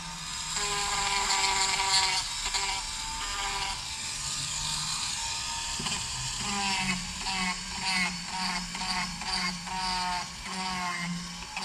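Dremel rotary tool smoothing off furry bits of material around a trigger area, recorded close up as a continuous high-pitched whine that wavers and stutters as the bit bites into the surface.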